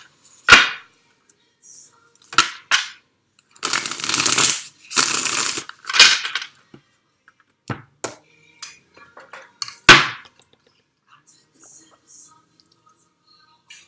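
A deck of tarot cards is shuffled close up in bursts of crisp riffling and flicking, with short sharp snaps between the longer shuffles and quiet pauses.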